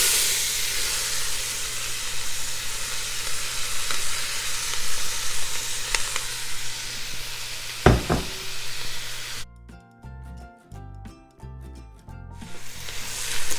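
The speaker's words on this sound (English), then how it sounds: "the butter's melting really fast. So I'm going to go ahead and add the onions." Onions fry in melted butter for French onion soup, making a loud, steady sizzle with a few stirring knocks. A burst of music interrupts near the end before the sizzle returns.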